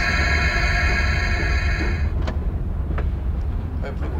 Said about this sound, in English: apply the brakes